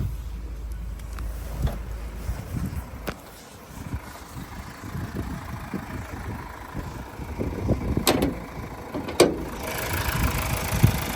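A 2016 Mazda CX-5 with a 2.2 diesel engine and automatic gearbox idles steadily at close range, a low continuous rumble with a few clicks and bumps on top and no talk.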